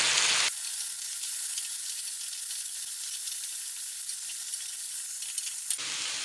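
Potatoes fry in a pan with a continuous, close hissing sizzle that holds steady throughout. A louder burst comes at the start and again near the end, as when the pan is stirred.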